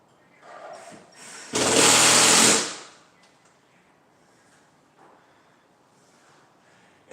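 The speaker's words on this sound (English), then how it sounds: "Sheetrock screws going in the wood, they hold really well." A power drill drives sheetrock screws into wood inside a kitchen, giving one loud, steady whirring burst of about a second, close by, then a quieter room with faint rustling.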